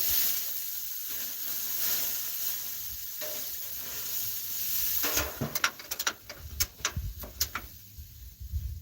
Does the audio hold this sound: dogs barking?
no